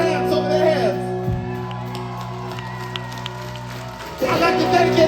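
A crowd at a live rock concert cheers and shouts over loud music, with whoops rising sharply again near the end.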